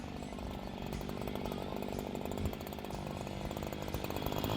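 A Stihl HL94 hedge trimmer runs at wide open throttle, its two-stroke engine buzzing high and steady with a dense, even drone, heard close and alone.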